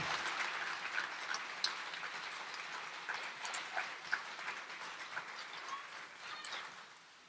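An audience at a press conference applauds steadily, a crackling, sustained clapping that is somewhat distant and fades near the end.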